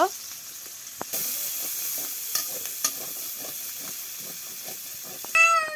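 Chopped onion, green chilli and garam masala frying in oil, a steady close hiss and sizzle with scattered spatula clicks and scrapes, a sudden louder burst of sizzling partway in, and a brief whistling tone near the end.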